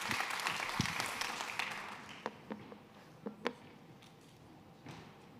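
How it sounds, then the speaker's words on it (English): A conference audience at an opening ceremony gives warm applause that starts as a dense wash, fades within a couple of seconds, and trails off into a few scattered individual claps. "Warm applause."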